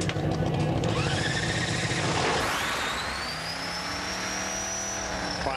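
Alcohol dragster engines at a Northwest Nationals drag race, loud and continuous, with a rising pitch sweep and dense roar throughout, no talk.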